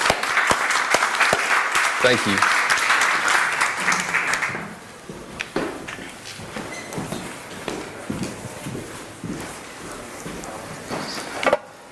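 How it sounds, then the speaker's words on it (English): An audience applauds at a net zero event, with dense clapping for about four seconds that then thins to scattered claps and footsteps as a person speaks briefly. "If we give him a warm round of applause"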